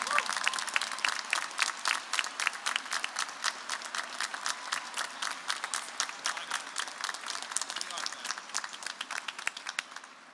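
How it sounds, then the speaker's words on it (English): Graduation ceremony audience applauding the honorees, a lively rhythmic patter of many separate hand claps, moderately distant, fading slightly toward the end. "Let's give them a big round of applause."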